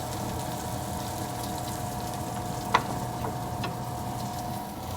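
Lamb shanks browning in a hot pan give a steady, moderate sizzle throughout, with one brief sharp pop or clink near the middle and faint crackles.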